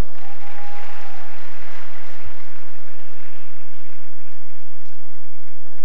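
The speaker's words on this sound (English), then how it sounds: "My students, give him a round of applause." A large audience at a university convocation ceremony applauds a student, a loud, sustained and dense clapping roar that stays even throughout.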